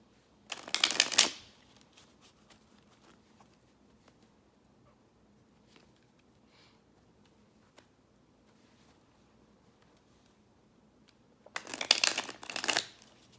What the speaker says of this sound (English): The last shuffle.